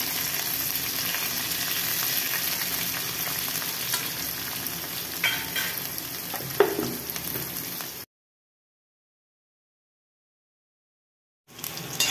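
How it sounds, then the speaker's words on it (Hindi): Onions sizzle and crackle steadily in hot oil for about eight seconds, with a faint stir partway through, then silence before the frying briefly resumes. "प्याज डाल दे रहे हैं गैस का आँच तेज कर दे रहे हैं"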